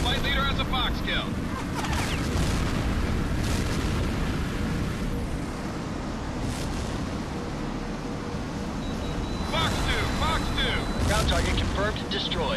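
Missile strike destroying a target in the HAWX combat flight video game, sustained loud rumbling booms and blasts with continuous roaring noise, with radio-style game voices speaking over it.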